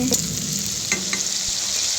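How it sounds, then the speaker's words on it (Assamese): French beans and potatoes frying in a pan give a steady, close sizzle, with a couple of soft stirring scrapes. "মই ফ্ৰেঞ্চবিন আৰু আলু এনেকৈ ভাজি লৈছোঁ"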